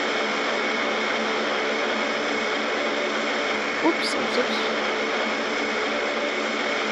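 Airliner engines roar steadily through a passenger cabin during the ride, a broad constant whoosh heard from inside, with a brief voice and a couple of small knocks partway through.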